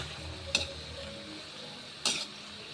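Tomatoes go into a pan of upo gourd frying for a misua dish, and a spoon scrapes and stirs twice: two brief clinking strokes over a faint, steady sizzle.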